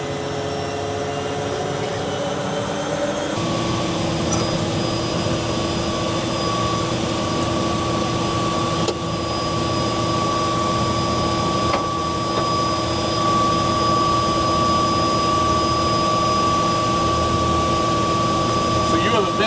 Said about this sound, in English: that jet engine will make things hot up here